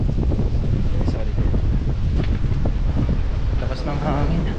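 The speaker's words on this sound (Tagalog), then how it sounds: "Lakas ng hangin." Strong wind at the Bangui windfarm buffeting the microphone in a loud, continuous low rumble, while people talk nearby.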